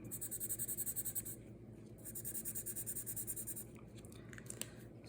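A pen writes on paper close by, rhythmic scratchy strokes in two bursts with a brief pause between, then lighter scribbles and a small tap.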